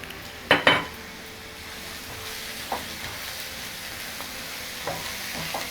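Egg fry curry with onions and garam masala is stirred in a pan, with a couple of sharp metallic clinks of a spoon up front, then a soft continuous sizzle and occasional light scrapes.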